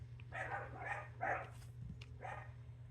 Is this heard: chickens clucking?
no